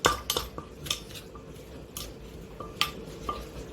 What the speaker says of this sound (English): So we're just going to mush all that stuff together. So you don't really bash the crap out of it now, you just push it down into the juices, spoon it up around.